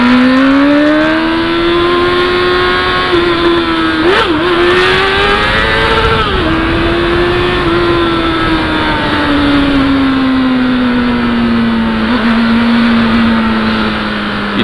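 A Honda Hornet motorcycle on its original exhaust idles and revs up close, loud and sustained, the engine pitch rising in short blips and then gliding back down to a steady drone.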